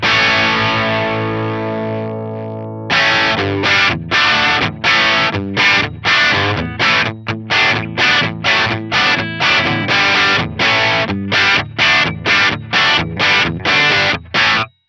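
Distorted electric guitar through an Atomic Amplifire Kornfield amp model with a high-pass filter at 100 Hz: a sustained crunchy chord rings out, then a fast run of chopped, palm-muted rhythmic chords, loud and close.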